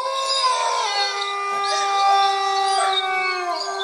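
A recorded wolf howl played back to pet dogs indoors: several long, wavering, overlapping howls rising and falling in pitch, fairly loud and sustained throughout with no pauses.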